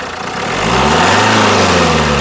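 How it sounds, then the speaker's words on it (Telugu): A 2015/16 Maruti Suzuki S-Cross Delta engine idles close by: a loud, steady rumbling hum that swells briefly at the start and then holds even. "ఇంజన్ యొక్క నాయిస్ పర్ఫెక్ట్గా అయితే ఉందండి"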